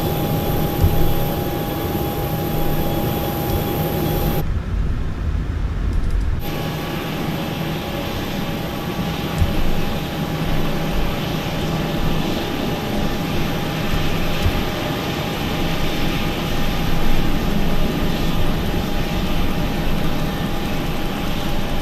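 A jet airliner taxiing on the runway, heard from inside the cabin as a steady engine roar and hum with a constant whine, continuous and fairly loud, with a brief muffled dip partway through.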